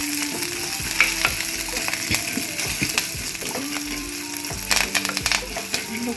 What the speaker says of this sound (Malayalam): കുറച്ച് കറിവേപ്പില കൂടെ ഇട്ട് കൊടുക്കാം.